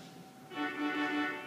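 A small trumpet stop on a chapel pipe organ sounds a sustained reedy, brassy tone of steady held notes after a brief quiet start, moderately loud and alone.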